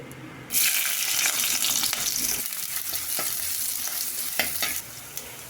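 Chopped onion and green chillies go into hot oil with mustard seeds for a drumstick leaf stew and sizzle loudly at once, holding a steady bright hiss broken by occasional stirring scrapes, with no voices.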